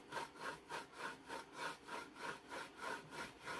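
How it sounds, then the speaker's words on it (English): A shaving brush rubs walnut stain onto wood in a steady back-and-forth rhythm of soft, brushy strokes, about two or three per second, quiet and close. "I'm using the shaving brush, and all I'm doing is I'm just rubbing that on there."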